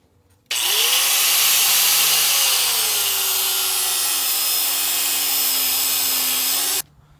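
An angle grinder cuts through a metal piece for repairing a John Deere 42 combine in a machine shed, starting abruptly with a loud, steady high-pitched whine and grinding rasp that holds for about six seconds before cutting off.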